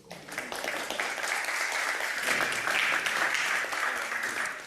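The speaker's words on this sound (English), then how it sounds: "Let's clap for Bruno, please." Audience applause for a speaker at an international conference, a steady patter of many hands clapping at moderate volume throughout.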